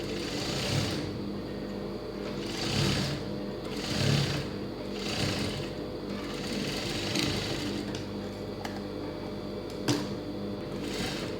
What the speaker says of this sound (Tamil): இது அப்படியே வந்து 2 தையல் போட்டு விட்டுடலாம்.